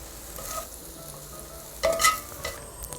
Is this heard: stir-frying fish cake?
yes